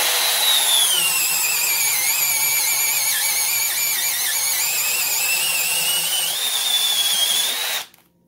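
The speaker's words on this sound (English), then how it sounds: "Here we are with the Hercules 1-inch auger bit, and this is a fresh charge. This should go right through this piece of rough cut 2x4 Douglas fir." A Milwaukee M12 Fuel second-generation brushless drill boring a Hercules 1-inch auger bit through rough-cut 2x4 Douglas fir, a loud steady high whine with shifting pitch as it loads, cutting off abruptly near the end.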